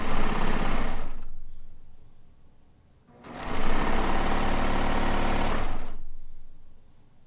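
Cover stitch serger machine running in two loud bursts, a steady rapid mechanical whirr for about a second, a pause, then a longer run of over two seconds before stopping.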